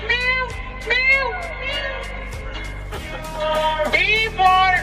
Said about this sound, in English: C for cat. Cat means Silly. meow meow.